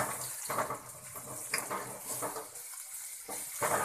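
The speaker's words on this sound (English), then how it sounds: "We have to fry this until onion gets little brown in color." Chopped onion frying in a pan with green chilies and curry leaves, a soft steady sizzle with occasional stirring scrapes, close and fairly quiet.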